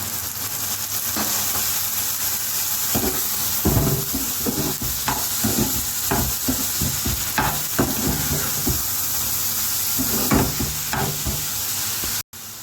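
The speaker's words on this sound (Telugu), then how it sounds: "ఇప్పుడు టమాటా ముక్కలు వేస్తున్నానండి కోసి పెట్టుకున్నాను టమాటా ముక్కలు" Chopped tomato pieces going into a hot frying pan: a steady loud sizzle runs throughout while a spoon scrapes and knocks against the pan in irregular strokes, with no talking.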